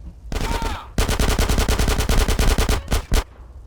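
Rapid automatic gunfire from a weapon in GTA San Andreas on PC, a long run of sharp, evenly spaced shots, loud and close, then a brief pause and two final bursts.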